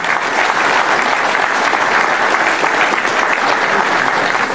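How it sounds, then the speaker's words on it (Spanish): An audience applauds steadily and loudly at a public ceremony where a project dossier for buying agricultural machinery is handed to a minister, a dense, continuous burst of clapping with no talk over it. "Pues el aplauso, por favor."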